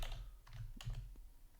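Typing on a computer keyboard to run a Google search, a short burst of a few close, distinct keystroke clicks over a low background hum, with no speech.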